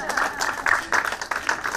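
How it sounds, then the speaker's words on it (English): Audience applause at the end of a law school conference session, a short burst of uneven claps from a modest crowd at moderate distance. "we're going to get a big round of applause from Michael for that."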